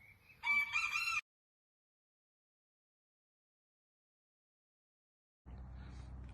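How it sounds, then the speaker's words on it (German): A rooster crows before dawn in Graz, one short, loud, close cock-a-doodle-doo, then silence and a low rumble of background noise. "Der ist nur am Krähen."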